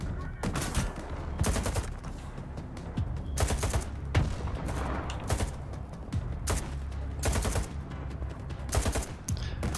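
Bursts of automatic gunfire from a heavy-recoil weapon in the shooter game S.T.A.L.K.E.R. 2: Heart of Chornobyl, close and loud. Rapid volleys repeat through the clip with short gaps between them.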